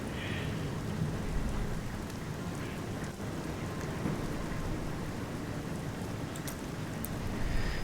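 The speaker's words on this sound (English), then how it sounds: "Got a big rainstorm going on outside." Heavy rain pours steadily outside during a thunderstorm, a dense continuous hiss with low rumbling undertones throughout, no voices.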